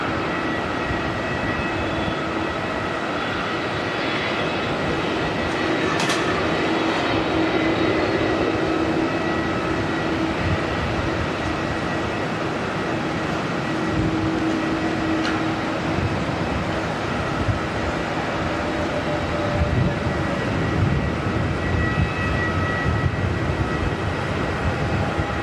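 An Air New Zealand passenger jet arriving from Wellington lands at Auckland Airport, its engines a steady broad roar that holds throughout, heard from a distance outdoors.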